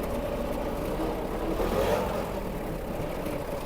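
A Kubota GT-3 Japanese mini tractor's four-cylinder engine runs steadily nearby, a continuous low mechanical drone with a slight swell near the middle, heard alone.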